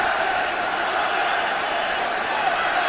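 A steady, dense roar of a large football crowd inside Old Trafford during a Manchester United versus Bayern Munich match in the 1998/99 season, continuous and even throughout with no distinct peaks.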